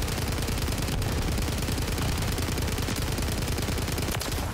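Automatic gunfire from a StG in Modern Warfare 3 fires in dense, unbroken rapid bursts, loud and close, with no talking.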